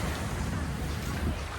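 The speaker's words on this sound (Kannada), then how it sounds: "ಪೀಸ್ ಅಲೆಗಳ ಸೌಂಡು." Sea waves at a Pattaya beach in Thailand wash in as a continuous, loud broadband roar mixed with wind buffeting the microphone, with no distinct breaks.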